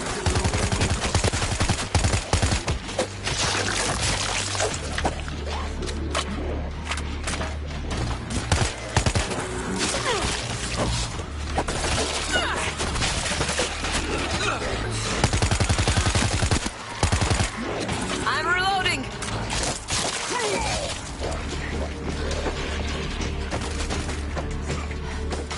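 Heavy mounted gun blazing in the zombie shooter World War Z Aftermath, a loud, unbroken stream of rapid booming shots with deep rumbling impacts that keeps going for nearly the whole stretch.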